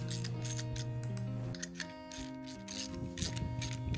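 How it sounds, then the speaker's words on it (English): The handle of a bearing puller is turned to draw a bearing off the motor shaft of a broken shop fan, making a steady mechanical grinding and clicking with a low hum underneath, close and continuous. "you just end up turning the handle and it should end up pulling the pulley"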